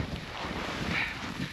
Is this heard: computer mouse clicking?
no